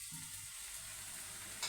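Spices sizzling and being stirred in a pan with chilli powder and chicken masala for Kerala-style egg curry, a steady faint frying hiss throughout with a slight scrape near the end.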